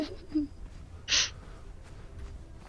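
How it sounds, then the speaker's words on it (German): A bird in the game Conan Exiles lets out a single sharp, shrill squawk partway through, preceded by a faint short chirp, set against quiet low in-game ambience. "Ach, halt doch die Schnabel, du blöder Vogel."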